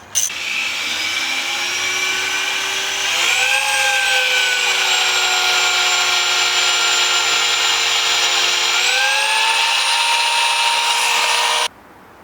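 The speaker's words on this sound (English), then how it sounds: "Makes your hole perfectly straight. Ooh. It's a reamer." A reamer power tool drills a straight hole, its high whining motor running steadily close by, with two distinct upward shifts in pitch as it speeds up before stopping abruptly.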